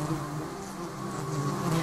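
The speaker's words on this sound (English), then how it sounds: "The whole colony takes part in the hissing, making the sound using a rhythmic body movement which travels like a wave through the colony." A colony of warrior bees hisses as the guard bees at the nest edge warn off lizards, a steady buzzing drone that swells slightly toward the end, close and fairly loud with no voices.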